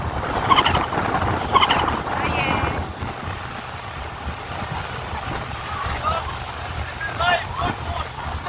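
A boat engine drones steadily over wind and water noise on a sea ride to Shark Island in the UAE, with voices chattering nearby through the ride.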